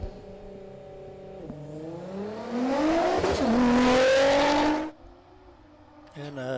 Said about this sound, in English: the R35 Skyline is definitely a quick machine out of the box.